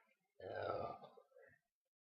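A girl lets out one loud, drawn-out burp after chugging soda, followed by a shorter, weaker second burp, close up in a quiet room.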